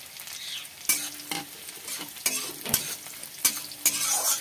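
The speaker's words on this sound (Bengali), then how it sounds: "এই রসুন কুচানোটা দিয়ে দিলাম।" Chopped garlic frying in a pan, sharp scraping strokes of a spatula stirring at an irregular pace over a close, crackling sizzle, with no talk.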